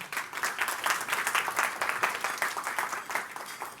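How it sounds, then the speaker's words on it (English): Moderately quiet audience applause for a presenter at a design and venture event, a steady crowd patter from a few metres away, with no clear voice over it. "Can we give her a round of applause again?"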